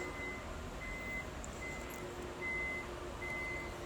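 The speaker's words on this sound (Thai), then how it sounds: "กดปุ่มฝาท้ายแล้ว มันก็จะเปิดอัตโนมัติ" Intermittent electronic beeps repeat at a steady pace over a low mechanical hum, as the power tailgate of a 2018 Toyota Fortuner 2.4V 2WD opens on its own.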